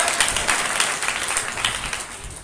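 An audience claps steadily together at a Sunday meeting, a dense, continuous patter of many hands close to the microphone for a couple of seconds.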